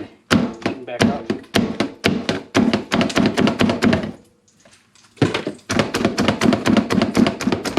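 Knife chopping chili ingredients on a board, rapid runs of crisp close thuds in steady rhythm, pausing for about a second before resuming at the same brisk pace.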